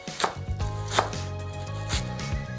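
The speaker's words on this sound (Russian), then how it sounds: "взять болгарский перчик, разрезать, вынуть из него сердцевинку и нарезать на порционные кусочки" A knife chops bell pepper into portion-sized pieces on a board. The chops are steady and crisp, around four of them, close and clear, with no talking.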